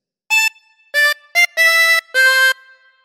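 A chromatic harmonica plays a short phrase from Pop Goes the Weasel as five clear, sustained reedy notes, some short and some held. It sounds close and solo in an otherwise quiet room.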